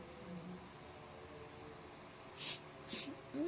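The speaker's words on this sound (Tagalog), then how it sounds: "Ang lakas ng spray." Spray bottle of fragrance or body spray giving two short hissing bursts, close and fairly faint against a quiet room background, with no one speaking.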